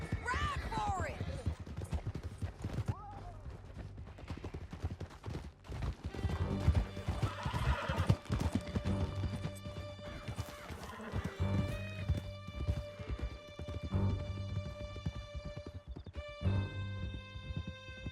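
Horses galloping in Red Dead Redemption 2 with rapid hoofbeats and repeated loud neighs and whinnies over a musical score, while voices shout at times in the distance.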